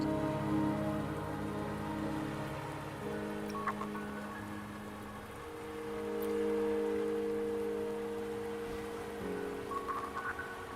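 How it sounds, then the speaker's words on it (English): Steady rain in the game Wuthering Waves, near Mount Firmament, patters on a surface throughout, a soft continuous hiss of drops, with low droning tones and occasional faint chimes behind it. "Don't worry, the rain won't last much longer."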